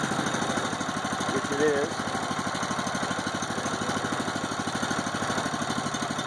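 Mahindra 2638 tractor engine idling after a long winter, a steady rhythmic diesel chug running continuously and fairly quiet, with someone speaking briefly over it.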